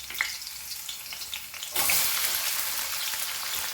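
Chopped onion hits hot oil in a tadka for sarson ka saag. A gentle sizzle suddenly swells into a loud, steady frying hiss up close.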